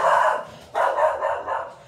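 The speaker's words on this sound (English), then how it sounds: "sorry, that's my dog." A dog barks indoors, two or three loud close barks in quick succession, standing alone without talk.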